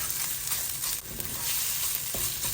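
Prawn Thai curry with vegetables sizzling steadily as it heats in a pan, a continuous bright frying hiss with a few soft stirring knocks, close and fairly loud, no talking.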